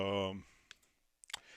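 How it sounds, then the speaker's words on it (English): A few sparse, quiet clicks from a computer keyboard as a command is typed on a Windows machine, following a stretch of a voice talking. "I'm going to type it in."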